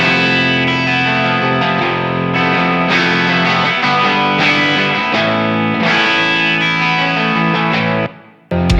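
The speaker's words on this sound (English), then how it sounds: "let's also try the vintage V30 option." Distorted electric guitar through an OwnHammer vintage V30 cabinet impulse, loud sustained chords and riffs with a thick, saturated tone ringing for several seconds before cutting off abruptly.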